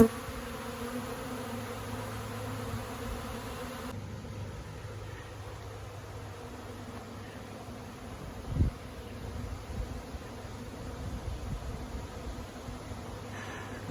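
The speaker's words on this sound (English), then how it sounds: "Looks like Queen Galadriel's about to swarm." A honeybee colony about to swarm hums steadily around its hive in a tree outdoors, a faint, continuous buzz with one brief knock partway through.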